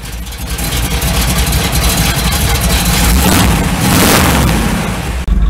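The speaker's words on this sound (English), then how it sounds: "We got the engine warmed up." A warmed-up car engine fitted with an Edelbrock carburetor idles steadily, a continuous loud, close rumble with a broad noisy texture and no clear revving.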